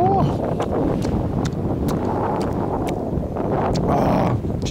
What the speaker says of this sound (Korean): 아, 바람 겁나 부네, 진짜.